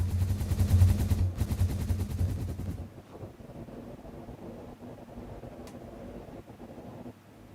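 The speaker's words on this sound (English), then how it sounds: "Hypertube launcher time." A Hypertube launcher in the video game Satisfactory fires with a rapid, loud pulsing rumble for a few seconds, then cuts off into a quieter low mechanical hum with faint clicks.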